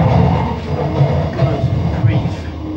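Rumbling, roaring train interior with a steady low drone and faint rhythmic rattles, loud and close, with a voice speaking over it.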